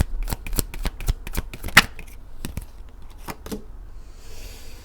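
Tarot cards being shuffled by hand before another card is drawn: a quick series of sharp riffling slaps and flutters that gradually thin out, close and fairly quiet.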